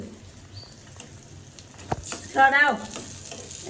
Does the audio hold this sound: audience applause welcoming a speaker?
no